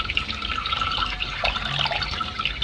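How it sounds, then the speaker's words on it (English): Cold tap water runs steadily over cooked pasta in a sieve at a kitchen sink, a continuous close splashing rush with dripping, no talk. "We have rinsed with cold water"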